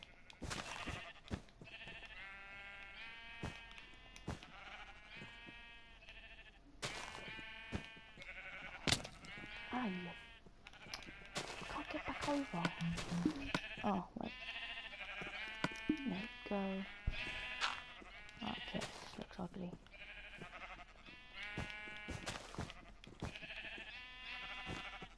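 Sheep in the video game Minecraft bleat repeatedly, several short wavering calls scattered across the span, with a person talking in between and over them.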